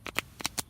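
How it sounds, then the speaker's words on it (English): A short riffle of playing cards being shuffled, three quick crisp ripples close by, with no voices. "Do you know how to shuffle?"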